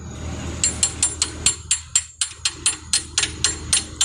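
Rapid metallic hammer strikes ring out close by, about a dozen sharp blows in a steady rhythm.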